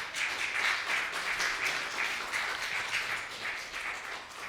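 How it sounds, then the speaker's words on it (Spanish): A church congregation applauds together in a sustained, fairly distant wash of clapping that stays even for a few seconds, with no clear voices on top. "un aplauso a Cristo Jesús"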